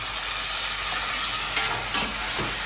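Tomatoes fry with sautéed onions in a pan, giving a close, steady sizzle broken by a few brief stirring scrapes.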